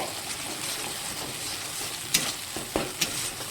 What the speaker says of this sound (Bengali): সর্ষের পেস্টটা দিয়ে ভালো করে মশলাটাকে মিশিয়ে নিতে হবে